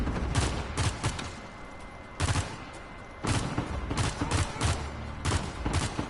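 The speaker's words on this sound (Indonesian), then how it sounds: "Machine gun" Machine gun fire in the video game Uncharted 4: repeated loud, dense bursts of automatic shots in uneven clusters, separated by short lulls, with no voices over it.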